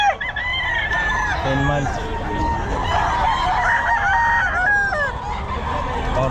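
Sweater gamefowl roosters crowing and clucking among other birds at the Bocaue pet market in Bulacan, loud and close, with overlapping calls over steady crowd noise and brief talk.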